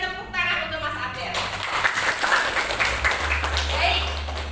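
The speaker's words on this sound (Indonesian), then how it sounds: "Kita berikan tepuk tangan untuk Mas Abel." A classroom of students gives a round of applause during a lesson, a dense, continuous patter of clapping under a low hum, with speech also present.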